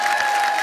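Studio audience applause welcoming a playback singer onto a comedy talk show stage, a dense, steady wash of clapping, loud and close, brief and unbroken.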